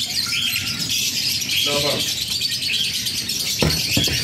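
Chirps and squawks of birds kept at an aviary, heard amid constant noisy background din, with someone speaking nearby.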